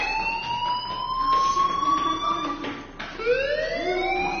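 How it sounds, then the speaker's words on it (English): A fire alarm in the Life is Strange video game sounds as rising, wailing tones that sweep upward over and over, loud and close, with soft game ambience beneath and no speech. "do you hear that fire alarm? That means you should be outside."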